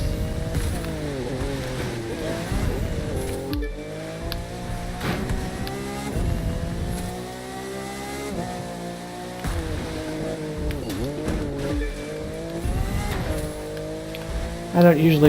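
A whiny race car engine in the PC game The Crew 2 drones and rises through repeated gear shifts, with short squeals, steady and close, while a person talks over it.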